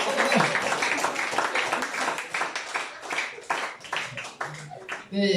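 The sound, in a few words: congregation clapping for the Lord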